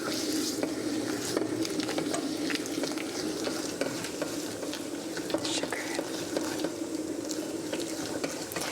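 A whisk beats an egg yolk and sugar mixture for French chocolate mousse, giving a steady, close scraping and swishing that carries on evenly throughout with no talk.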